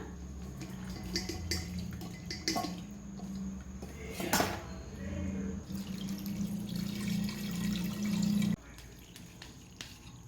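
Plain water poured into a cooking pot for mutton pasta, running and splashing steadily with clinks of metal cookware, ending abruptly; a voice is faintly present.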